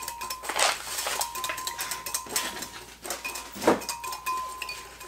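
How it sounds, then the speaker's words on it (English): A whisk scrapes and clinks against a bowl as dry ranch dressing mix is stirred into canola oil, a steady close run of rapid metallic taps and swishes with brief pauses. "I've got my ranch dressing in here and I'm going to whisk it around"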